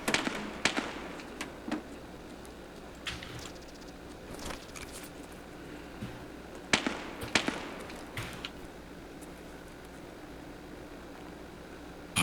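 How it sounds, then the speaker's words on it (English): Video game gunfire rings out as sparse, sharp cracks, a few single shots and short clusters, irregularly spaced and moderately distant, over a quiet steady background hiss. "Well, someone's shooting."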